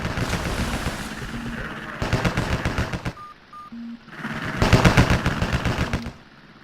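Naval guns open fire in a fleet-battle video game, with bursts of rapid automatic gunfire, loud and close, broken by a brief lull with electronic interface beeps before the firing resumes more intensely.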